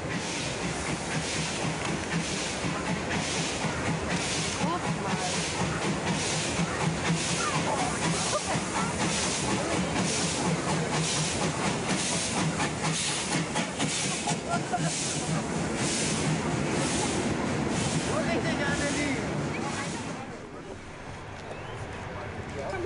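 Steam locomotive 86 457 creeps slowly over rusty tracks, with a steady loud hiss of steam and a rhythmic chuffing beat throughout, easing off near the end, while a narrator talks over it.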